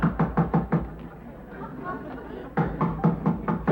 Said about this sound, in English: The knock at the door.